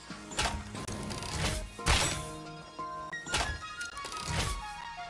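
Repeated heavy thunks and crashing whacks of a creature being hit in Satisfactory, several impacts spread irregularly over a few seconds, loud and close, with a couple of tonal game effects in between.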